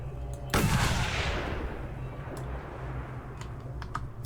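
A single loud sniper rifle shot in the video game Mad Max, a sharp crack with a long fading rumble, followed by faint ticking and clicks, no talking.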